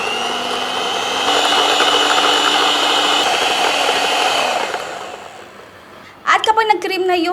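A hand electric mixer whips cream for leche flan with a steady, close motor whir that shifts pitch slightly, then winds down and stops; a voice speaks briefly afterward.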